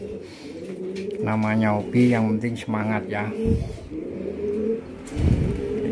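Pigeons cooing near a homemade wooden pigeon coop: several rolling, throaty coos in short bursts, close and clear, with someone speaking over and between them.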